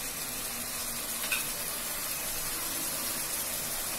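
Onion paste sizzles steadily in a hot pan for Bengali ilish polao, a continuous broadband frying hiss with faint stirring scrapes close by and no talk.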